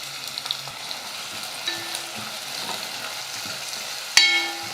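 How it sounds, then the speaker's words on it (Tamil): Finely chopped onion sautéing in a pan for a gravy, a soft continuous sizzle with scattered stirring scrapes and a sharp metallic clink of a utensil toward the end. "வெங்காயம் நல்லா வதங்கட்டும்"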